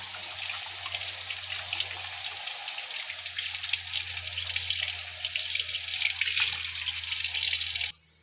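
Tap water runs steadily over a balloon in a classroom science demonstration, a loud, continuous splashing rush that lasts about eight seconds and then cuts off abruptly.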